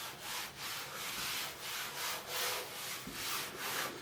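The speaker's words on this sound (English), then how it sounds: "It sounds like I'm basically gliding it with some sandpaper." A Meguiar's clay bar rubs back and forth over the dirty paint of a Nissan 350Z hood in about eight gritty, sandpaper-like strokes, steady and close.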